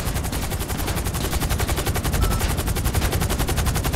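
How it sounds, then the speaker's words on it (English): Rapid automatic gunfire from GTA V Online rattles continuously and loudly, a dense sustained burst of shots with steady rhythm throughout, no talking over it. "Who's shooting me?"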